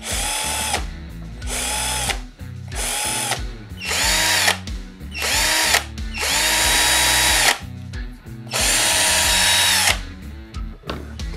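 A Xenon CDD505 12V cordless drill whirs loudly in repeated bursts of one to two seconds, its motor pitch rising and falling between short pauses, with no talk.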